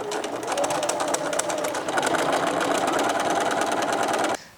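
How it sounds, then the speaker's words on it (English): A sewing machine stitches the top seam of a fabric basket, running in a steady continuous whir close up for over four seconds before stopping abruptly. "now we will sew with 1 centimeter seam allowance around the whole top again."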